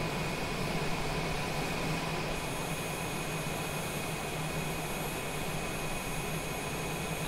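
Steady, even roar of a Cessna Citation jet engine in Microsoft Flight Simulator, a constant broadband hiss with a thin high whine running throughout, no voices.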